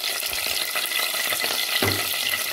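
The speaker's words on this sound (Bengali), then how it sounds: "জাস্ট আমি একটু নাড়াচাড়া করবো, একটু ফোড়ন দেওয়া আর কি।" Cinnamon, cloves, cardamom and a bay leaf tempering in hot oil while being stirred, a dense close sizzle with brief scraping movements, no voices.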